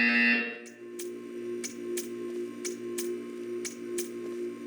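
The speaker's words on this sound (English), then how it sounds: "You will hear a buzzer." Portal 2 game buzzer repeating at a steady beat, short sharp bursts roughly every second over a droning electronic hum, following a brief louder tone at the start.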